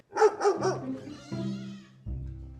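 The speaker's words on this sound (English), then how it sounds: "what's all that barking I hear?" A dog barks three times in quick succession, close by, followed by lower whining and growling sounds that trail off.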